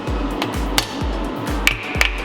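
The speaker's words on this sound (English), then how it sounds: "So now I can just kind of tap that back" On a VR V6 Commodore engine being built for boost, a chain pulley is tapped onto its shaft with about six evenly spaced sharp hammer knocks, close and distinct, with no talking.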